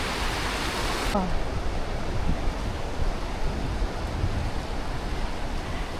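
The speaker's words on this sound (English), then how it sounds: "They've made a lovely little waterfall, and you can go swimming in it apparently." Glacier meltwater pours over a small waterfall in Norway, a loud, steady broadband roar of rushing water with wind buffeting the microphone and a brief vocal exclamation.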